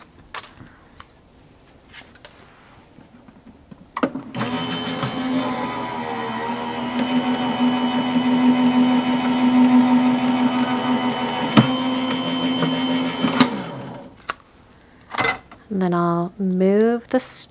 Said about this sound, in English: So I'll run this through my die cutting machine.